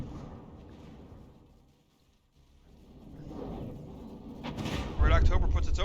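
A missile strike on a warship in From The Depths, with rumbling explosions and booms that build to a loud, heavy hit at the end, under some talking.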